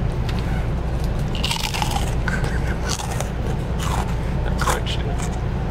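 Crunchy crisps from a Japanese vending machine being bitten and chewed close up, with crackly crunches over a steady low background hum while people talk nearby.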